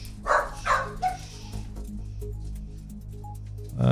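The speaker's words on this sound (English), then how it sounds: "sounds like somebody's coming in, getting the dogs all worked up" Several dogs bark in sharp bursts at the start, then quieter yips and scattered barks follow over a low steady background hum, with no talking.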